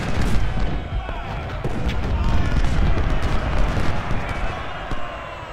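Repeated heavy booms of cannon fire in the game Ultimate General: Civil War, a dense rumbling barrage with overlapping blasts throughout and no clear pauses.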